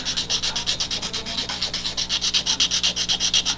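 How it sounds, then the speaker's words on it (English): Sandpaper rubbed on a turtle's shell to prepare it for epoxy repair, a steady close rasping in quick back-and-forth strokes, about five per second, with no talk. "Obviously, I'm sandpapering a sensitive area."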